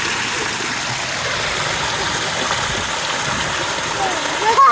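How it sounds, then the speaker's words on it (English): A waterfall in the kids' area of Disney's Blizzard Beach water park makes a steady, dense rush of splashing water that stays close and loud throughout, with a brief surge at the very end. "We found a waterfall in the kids area."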